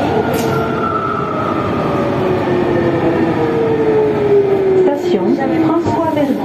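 A Siemens VAL 208 HP42 metro train on Toulouse's line between Borderouge and Ramonville, with a loud, steady rumble and rising-then-falling motor whine throughout, plus brief squeals and clunks near the end, and voices under it.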